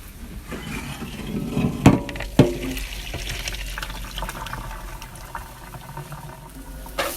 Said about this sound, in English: go ahead and strain your potatoes in the strainer. Take out all the water.